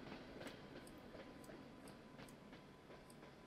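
A very long train passes in the railway simulator Trainz: A New Era, with a steady rhythmic clickety-clack of wheels over rail joints over a continuous rolling rumble. It is faint, with no talking.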